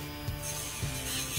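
Electric nail grinder buzzing against a Vizsla dog's nail edges, a steady close whir with a few brief rubbing bursts as the tip touches the nail.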